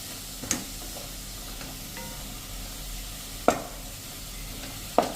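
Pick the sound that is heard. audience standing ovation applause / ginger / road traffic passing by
ginger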